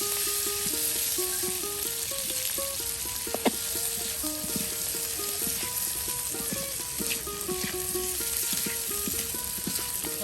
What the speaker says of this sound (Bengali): এই যে তেলে সুন্দর করে একদম ভেজে নেওয়া হচ্ছে